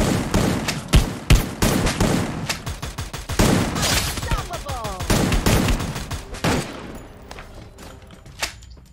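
Rapid bursts of gunfire crack in quick succession with heavy thuds and booms in the video game Free Fire, dense and loud, tapering into scattered shots near the end.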